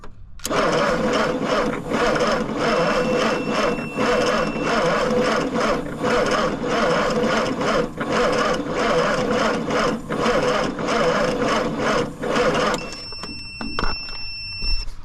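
A 1963 Plymouth Belvedere engine, sitting since 1978, cranks over on power fed straight from the battery, giving a steady, loud mechanical whir that runs about twelve seconds before cutting off.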